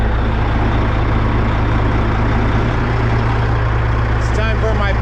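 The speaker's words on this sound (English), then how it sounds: "So I'm gonna bump up the RPMs a little bit. That way it gets it unloaded a little bit faster." A heavy truck engine runs at raised RPM to drive the PTO while a load of waste is unloaded, giving a steady loud drone with no pauses for the full stretch.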